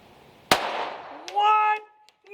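A single sharp report from a Taurus TX22 .22LR pistol fired at a 100-yard target on an outdoor range, a loud crack with a brief decaying tail, followed by voices reacting.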